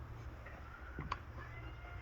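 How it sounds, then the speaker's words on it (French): A cat gives a single short, faint meow in a quiet greenhouse in January, heard once against low background hum. "Un chat qui vient faire la chasse et qui se met au chaud quand il y a un peu de soleil."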